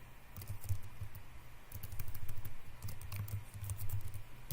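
Rapid typing on a computer keyboard while entering an Azure storage command, heard up close as steady bursts of clattering keystrokes with brief pauses between runs and no voices.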